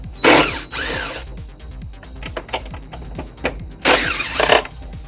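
A 12mm socket on a ratchet working bolts loose from a car's air intake, with rapid ratcheting clicks, scattered metallic taps and two louder bursts of handling noise, close by.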